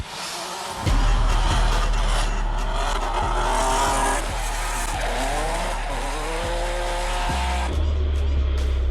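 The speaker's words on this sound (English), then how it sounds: "She's a Ferrari 599, competing in the Formula Drift Pro class this year." A Ferrari 599 drift car competing in the Formula Drift Pro class drifts loudly and close, with a roaring engine and long screeching tire squeals that rise and fall as it slides.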